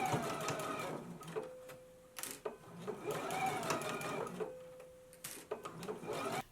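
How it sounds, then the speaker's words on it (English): Sewing machine stitching a 5/8 inch seam on a jumpsuit, two bursts of fast mechanical whirring with a steady hum, separated by short clicks and pauses, close and fairly quiet. "we can go to the machine and we're going to stitch this at a 5/8 of an inch seam allowance"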